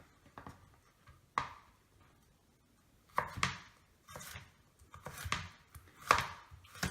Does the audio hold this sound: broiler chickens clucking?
no